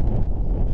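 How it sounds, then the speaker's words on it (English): Strong wind buffets the microphone beside a cold early-season fly fishing lake, a steady low roar of gusts lasting under a second with no voices. "25-30 mile an hour wind"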